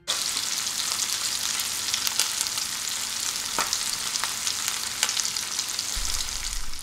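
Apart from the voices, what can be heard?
lamb chops frying in a pan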